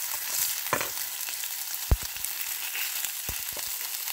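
Meat browning in a wide frying pan, a steady broadband sizzle with a few sharp clicks and scrapes from a utensil, close and moderately loud with no talking.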